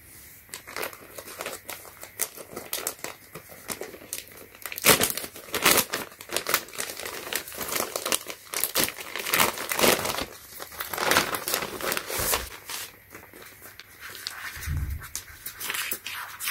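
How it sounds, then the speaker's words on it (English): Crinkling and tearing of plastic packaging as a graphic T-shirt is unwrapped, steady rustling bursts up close with a few louder crumples and no talking. "So, today I'm going to, unwrap this."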